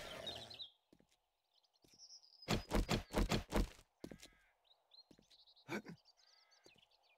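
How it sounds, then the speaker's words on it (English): Crows caw in the 7 Days to Die video game, a quick burst of several loud harsh caws mixed with other game sounds and chirpy effects, under occasional talk. "Oh, there's a bird right there."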